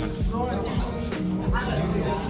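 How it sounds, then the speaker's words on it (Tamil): An IoT sensor emits a continuous high-pitched electronic beep once its threshold value is crossed, sounding steadily beneath people talking nearby. "த்ரெஷோல்டு வேல்யூ இருந்துச்சுன்னா பீப் சவுண்ட் வர மாதிரி செட் பண்ணியிருக்கோம்."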